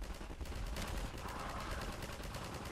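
Rapid automatic gunfire from Combine soldiers in Garry's Mod, a dense continuous rattle of shots, fairly faint and steady throughout.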